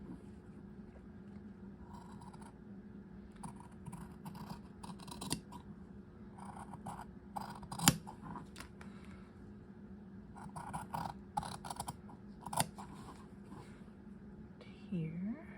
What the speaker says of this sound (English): I'm just going to cut it out roughly